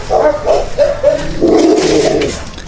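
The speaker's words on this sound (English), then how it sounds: "Dog's stuck." A stuck dog gives short, pitched barks and whimpering yelps in quick bursts, close and fairly loud, with no talk over them.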